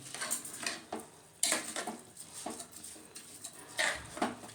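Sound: stir-frying rice with vegetables and spices in a pan

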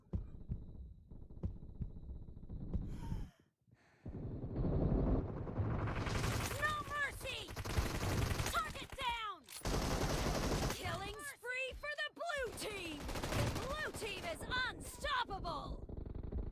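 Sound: gunfire in the video game PUBG Mobile

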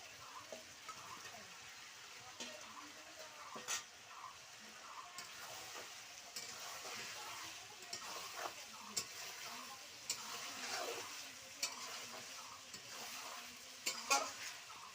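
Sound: duck meat with fried potatoes sizzling and stirred in pan

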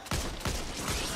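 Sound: gunshot in the video game Back 4 Blood

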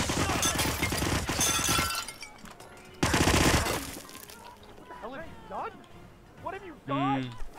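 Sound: gunshot in Hitman video game

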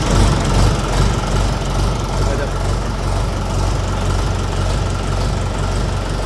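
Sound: tractor engine idling in neutral

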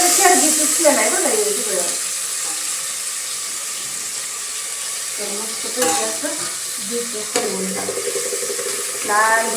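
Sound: double tempering spices sizzling in pan

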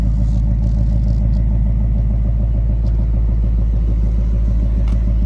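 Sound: 2023 Ford Mustang GT V8 active valve exhaust

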